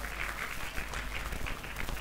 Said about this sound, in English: we will give a big applause for our professors